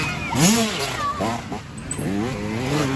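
A dirt bike engine revs up and down in sharp, rising and falling bursts, fairly close, during an off-road cross-country race, with distant engine noise underneath.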